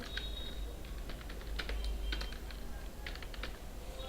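Someone types a full name on a computer keyboard, a quiet run of light, irregular key clicks over a low background hum, no one speaking.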